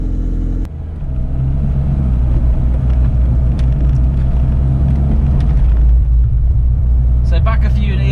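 A 1989 Mini Mayfair with a 1000cc engine running while driving, a low, steady rumbling drone heard from inside the car, loud and continuous after a brief dip near the start.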